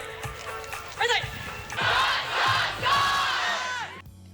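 Over a thousand students in an outdoor park play red light, green light: a huge crowd yelling and shouting in rising bursts, loud and close, with cheering swells and running commotion.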